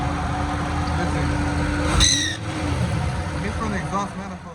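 An LS-swapped Monte Carlo engine idles with a ticking exhaust manifold leak at the down header, a rough, pulsing rumble close by with a brief sharp burst midway.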